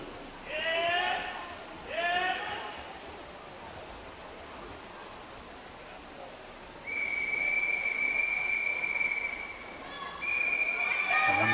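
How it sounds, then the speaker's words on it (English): Whistles at a regional swimming championship: two short warbling trills early on, then a long, steady, shrill blast followed by another, all over a constant crowd and pool din. "And here come the whistles then for Benjamin McDougall."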